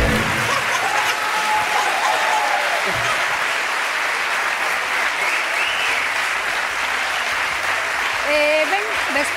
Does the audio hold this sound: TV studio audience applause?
yes